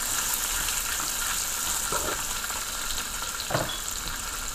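Beef for a stir fry with cabbage and black pepper sizzles steadily in a pan, a dense, even frying hiss with a couple of soft stirring scrapes and no voices.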